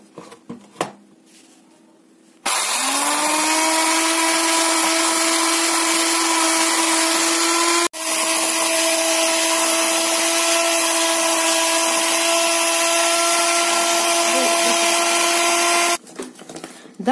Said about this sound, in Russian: Взбиваем масло до пышности.